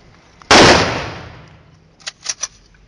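A rifle salute volley at a Czech funeral fires as one loud, sharp crack that echoes and decays over about a second. Three fainter distant pops follow.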